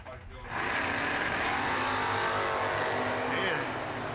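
A Camaro roars off the line at a bracket drag race, the engine building to a loud, sustained blare after a brief quieter start while an announcer talks over it.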